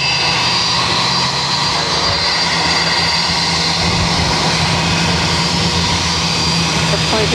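An Airbus A319 jet takes off at Boston airport with a loud, steady, continuous engine roar that fills the whole stretch, and faint voices sit beneath it.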